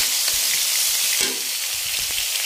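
Paprika-seasoned food sizzles steadily in a hot pan while a utensil stirs it, with soft scraping strokes breaking through the continuous close frying hiss.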